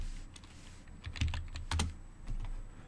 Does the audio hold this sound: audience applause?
no